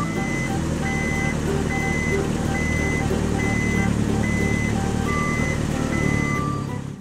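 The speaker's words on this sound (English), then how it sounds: "Brown pickup truck." A toy pickup truck sounds a steady series of high electronic reversing beeps, evenly spaced over a continuous motor whir, loud and close with no talking.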